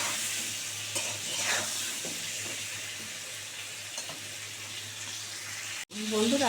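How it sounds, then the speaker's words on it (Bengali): Cubed potatoes and pointed gourd frying in oil with a little turmeric in a pan, a steady soft sizzle with occasional stirring scrapes, close and continuous, cut briefly near the end before a voice starts speaking. "আলু পটলটাকে সুন্দর করে লাল করে ভাজতে হবে।"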